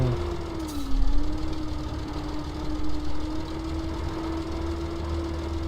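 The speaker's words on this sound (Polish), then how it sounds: "Ale się ciągnik kopie." A tractor engine in the Farming Simulator 17 game labors under load during barley sowing, a steady droning hum with a sustained low tone running throughout.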